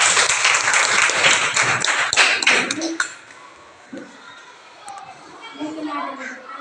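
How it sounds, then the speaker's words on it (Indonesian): Applause from a classroom audience after a student group presentation, a dense burst of clapping for about three seconds, then thinning to scattered claps under murmuring voices and children's chatter. "Kita beri tepuk tangan."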